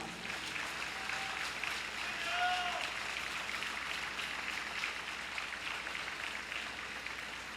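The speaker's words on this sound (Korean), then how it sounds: "큰 격려의 박수 부탁드립니다" Applause of encouragement from a crowd at a national teachers' rally, a steady, distant wash of many hands clapping that continues evenly throughout, with faint voices mixed in.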